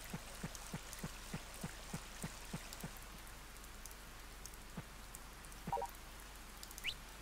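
Rain in the video game Harvest Moon: Save the Homeland falls as a faint, steady hiss with regular soft drip ticks, heard alone.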